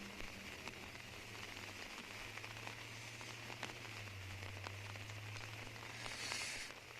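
Steady rain falls during an outdoor disc golf tournament round in La Mirada, a constant soft hiss with scattered drop pops and a low rumble underneath, fairly quiet throughout.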